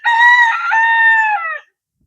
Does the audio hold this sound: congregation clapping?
no